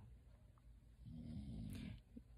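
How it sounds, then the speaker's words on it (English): A sleeping dog snores quietly up close, a low rumbling breath that swells for about a second in the middle, over a faint steady room hum. "I apologize for Maya snoring"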